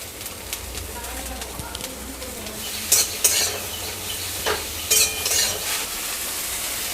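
Pointed gourd (potol) sautés in hot oil in a wok, a steady close sizzle with a few sharper scraping clanks from the spatula stirring midway through.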